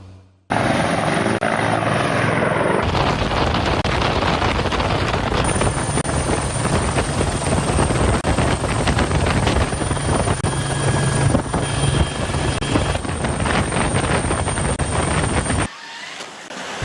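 A Bell 212 helicopter flies on a search and rescue operation over the sea, its loud, steady rotor and engine roar filling the clip with wind buffeting, then cutting off near the end.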